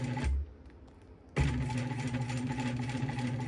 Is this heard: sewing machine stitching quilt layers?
yes